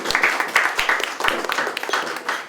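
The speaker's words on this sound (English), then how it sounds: "So a round of applause, the first one," Audience at a clay art project event at Wolterton Hall giving a round of applause, a moderately sized crowd clapping with distinct individual claps audible through the steady patter, a few voices faintly underneath.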